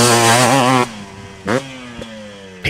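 A midsize quad ATV engine on a dirt race track revs loud and close, holding a steady high pitch before dropping off, then giving two short throttle blips and a final rev.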